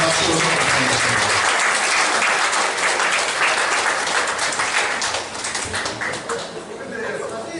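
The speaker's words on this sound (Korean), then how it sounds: "박수 부탁드리겠습니다." Applause from the audience at a clan association's annual general meeting in Gyeongbuk, steady, dense clapping that fills the whole stretch, with a slight dip and a looser patter toward the end.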